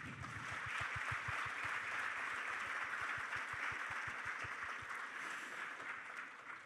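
An audience applauds at the opening of a seminar, with a broad wash of clapping over a steady low rhythmic pulse that fades near the end.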